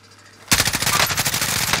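A Call of Duty: Modern Warfare firefight in Verdansk resurgence: after a half-second of near silence, a loud, fast automatic burst breaks out and rattles on steadily with evenly spaced shots to the end.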